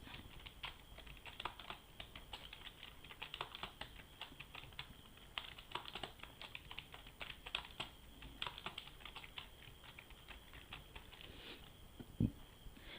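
Typing on a computer keyboard: quiet, close key clicks in uneven quick runs with short pauses, continuing throughout with one louder tap near the end.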